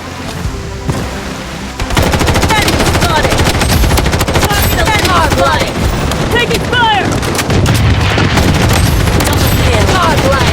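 Rapid automatic gunfire from the shooter game Blood Strike, loud and dense bursts of shots rattling almost nonstop after an opening lull, with echoing cracks layered over one another.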